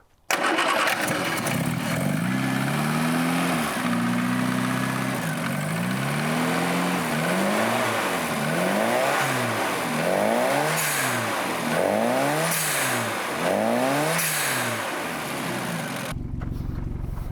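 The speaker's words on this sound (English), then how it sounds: "When you go up a hill, you step into the throttle and the Mini just goes." A turbocharged Mini pulls hard up a hill, its engine note climbing in repeated rising sweeps as it winds out through the gears, loud and close from inside, then cutting off abruptly near the end.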